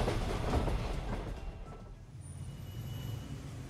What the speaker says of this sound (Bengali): ট্রেন চলতে থাকে তার আপন গতিতে নিজের গন্তব্যের উদ্দেশ্যে।